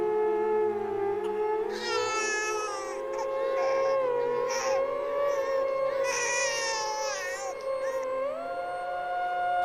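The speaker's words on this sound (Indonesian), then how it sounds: "Suara tangis seorang bayi mengejutkanku." A baby cries loudly and persistently in a cluttered room, wailing in long, rising and falling bursts that fill the whole stretch with no other voices.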